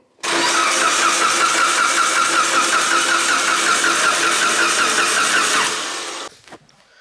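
A Mitsubishi Evo 8 turbo four-cylinder engine cranks hard and steadily for about six seconds, close and loud, then it cuts out without catching.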